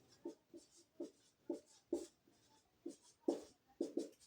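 Chalk scratching on a classroom board during a chemistry lesson on soap, a steady series of short, close strokes roughly every half second.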